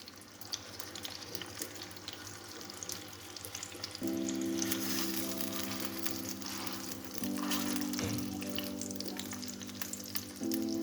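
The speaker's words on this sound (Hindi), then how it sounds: "और इसको हम लो फ्लेम पे पकने के लिए छोड़ देंगे" Beef chapli kebab frying on a tawa over a low flame gives a steady soft sizzle with a faint background hum, close and moderately quiet.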